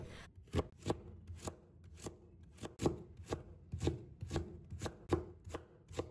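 A knife chops taro slices into thin shreds on a board in a quick, even series of crisp close strokes, roughly two per second.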